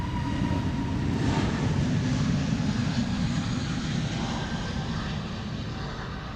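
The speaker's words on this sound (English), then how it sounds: "Here's the SAS CRJ." An SAS CRJ regional jet departing Amsterdam Schiphol airport for Stockholm gives a steady, broad engine roar that holds loud and unbroken, easing slightly toward the end, with no voices.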